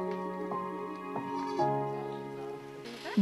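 Boer goats bleat several times at a farm, their wavering, nasal calls overlapping at moderate distance over quiet background noise.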